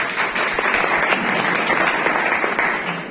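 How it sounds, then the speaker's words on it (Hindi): Loud, dense applause from an audience at a motivational talk honouring winning children, continuous clapping across the whole stretch with no voices over it. "एक बार आप सबके लिए जोरदार तालियां।"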